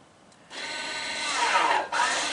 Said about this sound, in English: You heard the stepper motors applied and then they released.